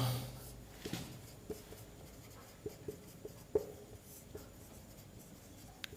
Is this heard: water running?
no